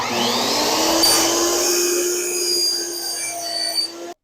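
A compound miter saw cuts through a wooden piece screwed rigidly in place, its motor giving a steady, loud high whine for about four seconds before cutting off abruptly.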